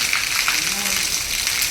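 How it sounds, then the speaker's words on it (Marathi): Heavy rain pouring down outdoors near a farm and temple, a dense, steady hiss of falling water that fills the whole short moment, close and loud. "पण किती पाऊस होतो बघ"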